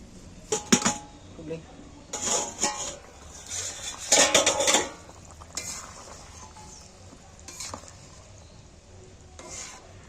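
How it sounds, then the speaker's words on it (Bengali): Fried prawns go into curry gravy in a metal pan, heard as bursts of stirring, scraping and clinking against the pan over a low simmering sizzle, with a few louder clatters. "আমি এই ঝোলটার মধ্যে দুটো চিংড়ি মাছ ভাজা তুলে দিচ্ছি"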